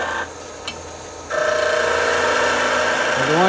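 A Shopsmith lathe spins a wood blank while a gouge rounds it out, a steady whirring drone that jumps louder and brighter partway through as the tool bites, with a rising whine near the end, close and continuous.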